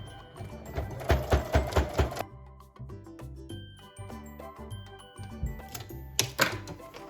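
A sewing machine runs over an existing topstitch while making a baby diaper-holder kit, with a fast rhythmic needle clatter in short bursts and pauses, plus small clicks and clinks between runs.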